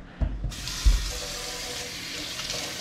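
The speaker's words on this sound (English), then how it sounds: "I'm just going to wash everything real quick" A kitchen tap is switched on to rinse carrots and other vegetables, with a couple of soft thumps and clunks before the water starts, then a steady close hiss of running water into the sink.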